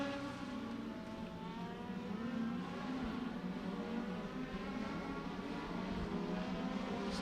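Legend race cars circle Beckley Motor Speedway in a feature race, a steady blended engine drone heard from a distance with no clear pass-by, continuous and moderately loud throughout.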